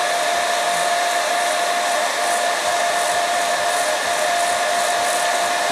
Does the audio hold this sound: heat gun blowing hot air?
yes